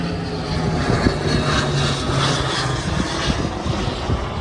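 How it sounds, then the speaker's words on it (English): A private jet passes overhead, a steady broad engine roar that holds at a fairly loud level throughout without clearly fading in or out. "Private jet."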